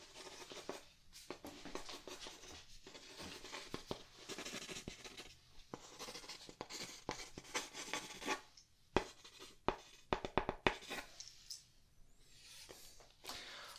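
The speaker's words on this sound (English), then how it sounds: "I'm just writing down some notes" Pen or pencil scratching across paper while notes are jotted in a quiet ASMR classroom setting, close and soft, with irregular bursts of strokes, brief pauses and occasional light taps.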